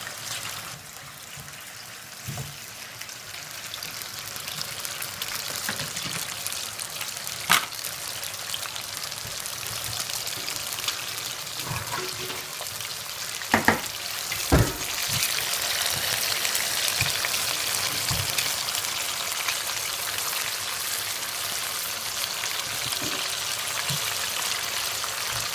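Meat frying in hot oil in a pan, a dense and continuous sizzling hiss that keeps going at an even level, broken now and then by faint pops and clicks, with no voices over it.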